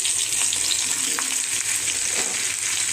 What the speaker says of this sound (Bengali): এখন কিছুটা সময় ঝিঙাটা আমি এভাবে করে একটু ভেজে নেব